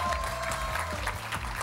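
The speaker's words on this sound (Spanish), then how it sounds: "¡Fuerte el aplauso para Silao que lo hizo muy bien!" A high school audience in Silao claps for its team, a short burst of steady, moderately loud applause with a faint background hum.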